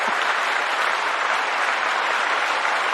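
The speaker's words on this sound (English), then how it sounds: "Well, thank you for all the applause." An audience at a podcast event claps steadily and densely for the full length, a continuous, even wash of applause with no voices over it.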